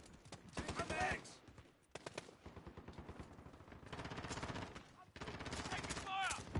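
Modern Warfare gunfire rattles in several dense automatic bursts separated by short gaps, loud and close, with faint game voices mixed in.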